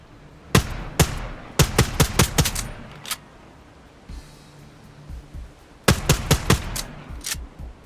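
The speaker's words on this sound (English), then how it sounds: "Fire some rounds, then reload." Sharp gunshots fire in quick bursts in the video game Quantum League, with a quieter pause between volleys before a final rapid string of shots.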